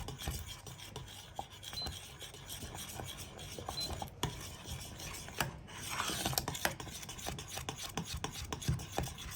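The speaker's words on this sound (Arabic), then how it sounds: "دايما نقلب باستمرار والنار تكون هادية جدا." A spoon steadily stirs and scrapes Egyptian malban mixture in a pot over very low heat, a continuous close rasping and rubbing with small clinks, no voices.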